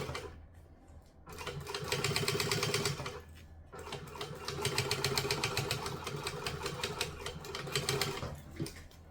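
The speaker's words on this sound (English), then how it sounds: "you want to be able to top stitch down that seam allowance" A home sewing machine runs in two long bursts while top stitching down a seam allowance on a garment, its rapid needle chatter steady and close, with a short pause between runs.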